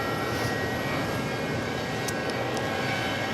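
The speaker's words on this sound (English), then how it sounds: "here comes a couple JetBlues coming in" JetBlue jet airliners arriving at New York's JFK airport, a continuous loud roar of aircraft engines at steady level with a broad rushing hiss, no voices present.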